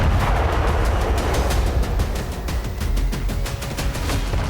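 Explosions from an Israeli air strike in southern Lebanon, with a rapid series of sharp, loud bursts and booms repeating over a rumbling low background throughout.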